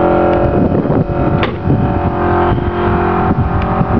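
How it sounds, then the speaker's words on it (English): A pump or compressor kicks in on a 1965 Ford Galaxie convertible, giving a steady, close, loud mechanical hum and whine with a few brief clicks and knocks over about four seconds. "there's the pump kicking in there"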